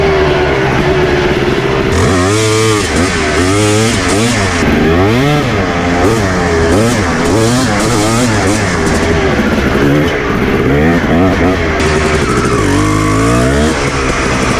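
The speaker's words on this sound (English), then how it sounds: "It starts like nothing. Like, this is a good running bike." A cheap two-stroke dirt bike engine running without an air filter, close and loud, revved again and again in sharp rising and falling bursts over a raspy idle.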